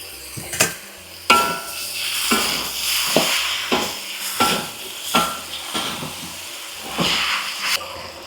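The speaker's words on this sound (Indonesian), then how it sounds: "Tumis sampai benar-benar matang" Sambal stir-frying in a pan, with steady sizzling and hissing broken by repeated scraping strokes of a spatula, close and fairly loud, with no talk.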